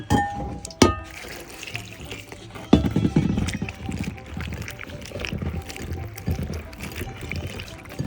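Cut eggplant pieces are washed by hand in water, with splashing, sloshing and clattering pieces against a bowl, a couple of sharper knocks, and steady close handling noise throughout.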